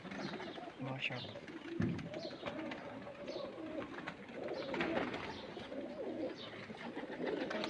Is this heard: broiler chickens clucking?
no